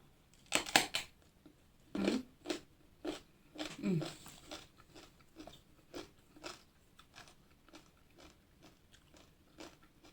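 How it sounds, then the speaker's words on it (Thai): Someone eats som tam (papaya salad) up close, a steady run of crunchy bites and chewing at an irregular rhythm, loud at first and then softer. "กิน ส้มตำแทนน้ำพริกนี่"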